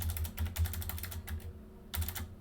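Rapid, steady typing on a computer keyboard as router configuration commands are entered, with dense clusters of close key clicks broken by a short pause before the tapping resumes.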